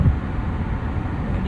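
A 2025 Lotus Emira V6 engine pulls on light throttle, a low steady rumble with road noise inside the cabin.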